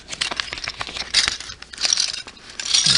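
A small plastic bag holding model kit parts crinkles and crackles up close, with irregular rustling bursts and soft clicks of loose parts inside, no talking over it.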